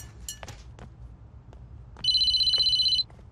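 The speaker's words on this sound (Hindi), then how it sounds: "ये किसका फोन आ गया इस वक्त?" A telephone rings once with a bright electronic tone lasting about a second, in a quiet room with a few faint knocks and small household sounds before it.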